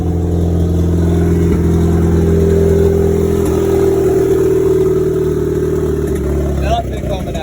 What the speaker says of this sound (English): Just gonna give a little test fire real quick just to make sure that it's not leaking out the wastegate